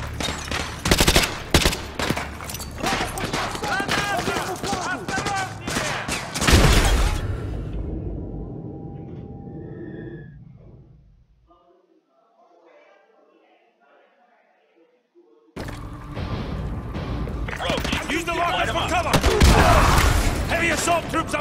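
Dense, loud automatic gunfire and heavy blasts from the Call of Duty Modern Warfare 2 Remastered campaign fill several seconds, drop to near silence with faint distant sounds, then the combat roars back at full volume.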